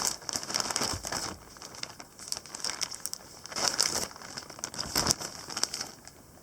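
A goodie bag from the Salute 2026 show is handled up close, giving irregular bursts of crisp plastic crinkling and rustling that swell and fade in several waves.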